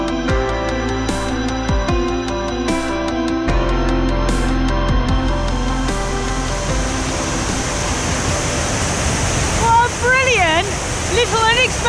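Rushing water from a waterfall on a midnight hike in Norway, a loud steady roar close by that continues throughout, with brief thumps and clatter early on.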